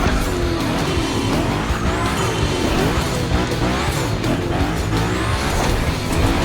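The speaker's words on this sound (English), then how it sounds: "this guy ahead, he's doing great at donuts" A car does donuts in the racing game The Crew Motorfest during a gymkhana event, its tires squealing and skidding continuously over a loud, steady engine roar with rising and falling revs.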